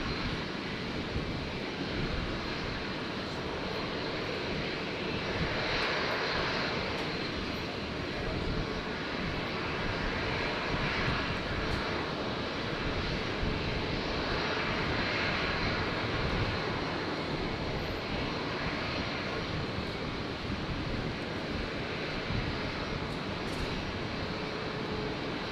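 A Qantas airliner rolls for takeoff on runway 01 right at Brisbane International Airport, its jet engines giving a steady, broad roar with slow swells that continues unbroken and without talk.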